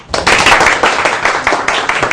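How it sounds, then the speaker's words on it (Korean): A studio audience gives loud, dense applause to welcome a guest expert on a Korean TV stock-trading show, a close burst of many hands clapping that starts abruptly and continues steadily throughout. "큰 박수로 맞이해 주시기 바랍니다."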